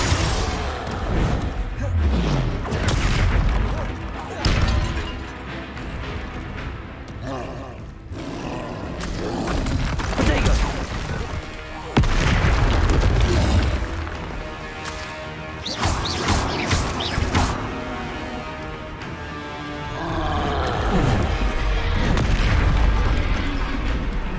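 Confringo explosion spells booming in the action game Hogwarts Legacy, loud repeated blasts and crashes mixed with roaring creatures and combat noise, with a voice shouting spell names throughout.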